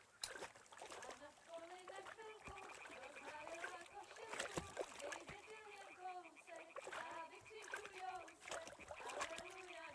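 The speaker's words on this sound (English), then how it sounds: "Throw a stone in the water near her to lure her away." Stone thrown into water in the video game Kingdom Come: Deliverance II, heard as splashes and sloshing water amid busy game ambience, with voices talking over it.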